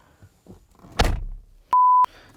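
A single heavy, solid thunk of a Porsche Macan door shutting, followed a moment later by a short, loud electronic beep.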